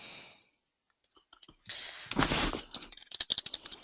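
Quick clicking keystrokes on a computer keyboard come close and fairly quiet after a brief hum cuts off, tapping in uneven bursts with no voices.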